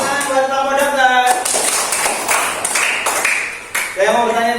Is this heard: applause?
yes